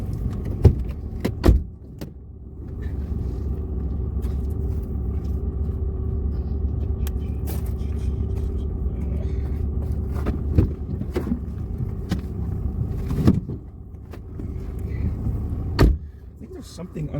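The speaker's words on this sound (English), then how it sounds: "Park and brake on, leave the car running." A manual-transmission car idles in park with the brake on, a steady low engine hum inside the cabin, punctuated by clicks, clunks and brief bumps, with people talking.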